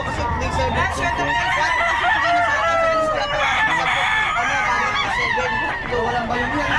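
Sweater-breed gamecock roosters crowing repeatedly at a busy poultry market, several long crows overlapping with other fowl clucking and honking amid constant crowd noise and background chatter.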